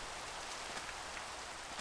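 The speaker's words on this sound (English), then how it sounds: "oh, it's starting to rain." Steady rain in the Minecraft video game, a dense even hiss of falling drops with faint patters throughout, continuous and fairly quiet with no voices.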